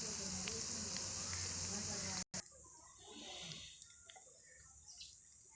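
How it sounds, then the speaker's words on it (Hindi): Steady sizzling and crackling of garlic frying in hot oil until golden brown, close and continuous, with a brief cut partway through. "गोल्डन ब्राउन होने तक भून लेना है।"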